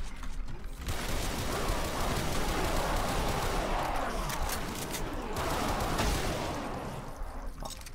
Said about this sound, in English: Shoot, I think I completely missed every shot.